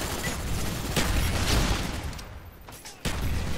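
An Uzi submachine gun in the Black Ops video game fires in rapid, loud bursts of automatic gunfire, with a short pause near the end before the shooting resumes.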